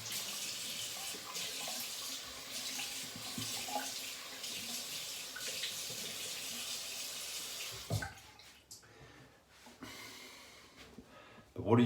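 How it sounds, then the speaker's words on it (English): Water runs steadily from a tap into a sink for about eight seconds while someone rinses alum off their face after shaving. The flow then stops, leaving quiet splashes and handling noises. "I'm going to rinse the alum off."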